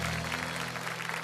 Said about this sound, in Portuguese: Pode aplaudir bem forte.